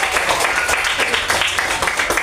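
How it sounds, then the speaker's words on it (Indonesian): Classroom applause from a group of students, a steady dense patter of many hands clapping throughout at moderate loudness, with no talk over it. "tepuk tangan"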